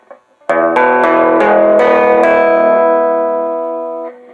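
Electric guitar with a sliding pickup set halfway between neck and middle plays a loud strummed chord that rings out and sustains for several seconds, with a few quick picked attacks at the start.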